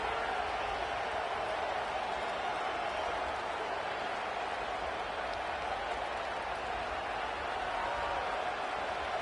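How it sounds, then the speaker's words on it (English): Home crowd at a Texas Longhorns college football game in DKR stadium roars in a steady, dense wall of cheering and applause, loud and continuous throughout without pause. "Man, this crowd really affecting the football game."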